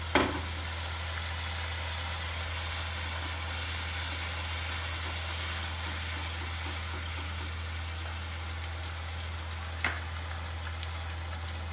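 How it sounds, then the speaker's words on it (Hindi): A dal tadka tempering sizzles in a pan for a mixed dal fry, giving a continuous, even hiss with a low steady hum underneath and one sharp tap near the end. "ये देखो अब हमारा छौंक उबलने लग गया है।"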